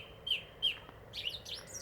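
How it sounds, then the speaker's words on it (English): Birds chirp near a lake on a clear early morning, with a few short, high tweets in quick succession, fairly faint, followed by a busier flurry of calls. "Awful lot of bird noise."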